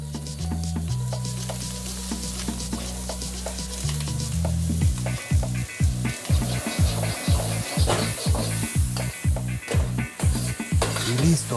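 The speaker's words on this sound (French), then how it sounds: "on remet la viande pour qu'elle finisse de cuire avec les tomates. Puis on ajoute notre mélange de sauces." Beef sizzling with tomatoes and a sauce mixture for Peruvian lomo saltado, opening on a loud steady hiss before quick rhythmic tossing and stirring clanks of pan and utensil take over, close and bright.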